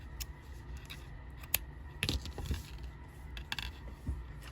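Scissors snip tatting thread for a needle-tatted necklace charm, giving a few soft, close, sharp clicks spread over a quiet background with faint handling rustle.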